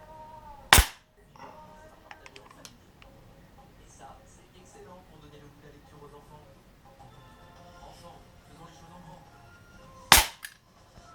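Two sharp air pistol pellet shots crack out about nine seconds apart, striking a metal target, with someone talking quietly and faint clinks and shuffling in between.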